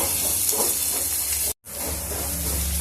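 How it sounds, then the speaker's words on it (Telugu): Ginger garlic paste fries in a pan with a continuous close hiss and sizzle. A brief silent gap interrupts it midway, then the frying resumes at the same level. "అల్లం వెల్లుల్లి పేస్ట్ని కూడా పచ్చివాసన పోయేంత వరకు వేయించుకున్నాము"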